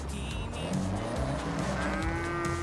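Cows mooing in a racing video game set in Japan, several drawn-out lowing calls overlapping over a continuous car engine rumble, fairly faint and with no talking.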